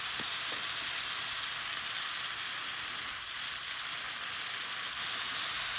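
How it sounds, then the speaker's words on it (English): Prawns seasoned with salt and pepper sauté in a hot pan for a lemon, garlic and rosemary dish, giving off a steady, close, crackling sizzle with no talking. "And then we'll saute this up."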